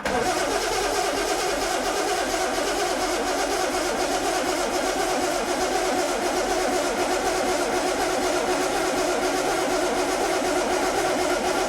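A petrol engine cranking and then catching, running loud and steady the whole way with a rough, busy mechanical clatter and no voices over it.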